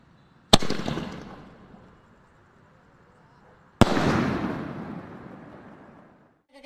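A Vinayak brand big blue sky shot Diwali firework goes off twice, about three seconds apart. Each launch is a sharp, loud bang followed by a long crackling, hissing fade.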